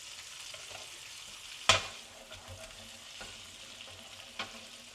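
Pork chops frying in butter in a single pan with sweet peppers and onions, a steady close sizzle with a few sharp pops and spatters, no talking.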